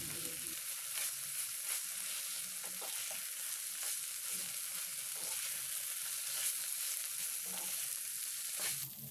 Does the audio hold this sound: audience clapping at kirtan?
no